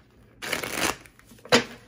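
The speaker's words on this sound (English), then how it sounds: "excuse my nails while I'm trying to shuffle" A deck of tarot cards is shuffled by hand, with a riffling burst of about half a second followed by a short, sharp snap of cards, close up.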